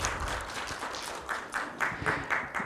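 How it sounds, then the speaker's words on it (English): Audience applause at a business seminar on VAT and new reforms in the UAE, a steady patter of many hands clapping through the room with bursts of louder claps toward the end. "A round of applause to Mr. Rob."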